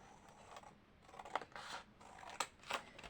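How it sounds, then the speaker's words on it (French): Scissors snip along a drawn line through paper in a few quiet, close cuts, each a short crisp crunch spaced irregularly over a soft background. "Donc là, je coupe sur le trait."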